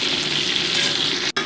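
Potatoes frying in hot oil for a cauliflower and shrimp curry, a loud steady sizzle with stirring throughout, cut by a brief dropout near the end.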